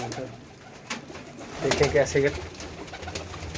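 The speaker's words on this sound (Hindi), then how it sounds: "ये देखें जी कबूतर" Caged pigeons coo in low throaty rolls nearby, swelling in the middle, while someone talks briefly over the sound.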